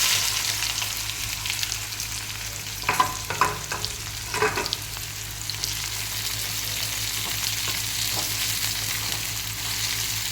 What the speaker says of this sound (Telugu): ఇప్పుడైతే ఇందులోకి ఆనియన్స్ వేసుకుంటున్నాను.